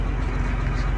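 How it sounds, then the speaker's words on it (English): An articulated tractor engine runs close by with a steady, loud, low diesel rumble that holds constant through the short stretch. "I haven't driven an articulated tractor in so long."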